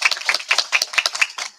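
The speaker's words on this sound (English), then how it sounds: "Big clap to her too." Crisp, separate hand claps from a small group at a children's justice event in Pakistan, beating in a quick uneven rhythm close by, with short gaps between bursts.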